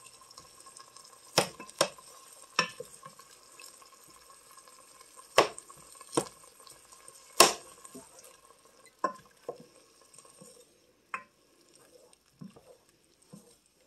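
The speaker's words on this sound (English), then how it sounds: "swish it around with all the onions and the turkey" Ramen flavor powder is stirred into a pan with onions and turkey; scattered sharp clinks and scrapes of a utensil against the pan come at irregular intervals over a low background, with no talk.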